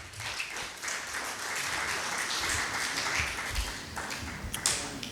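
An audience at an arts council literary event in Karachi claps, a fairly quiet, uneven patter of hands with scattered sharper claps rising and falling over several seconds.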